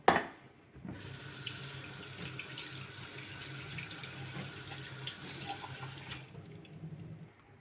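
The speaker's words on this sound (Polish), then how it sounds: "i opłuczemy wodą." Tap water runs steadily, splashing as red beans are rinsed in a sieve, starting abruptly and cutting off near the end.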